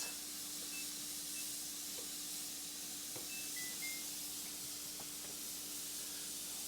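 Steam vents steadily from a pressure canner loaded with jars of pot roast, a continuous close hiss that holds at an even level throughout with no talk.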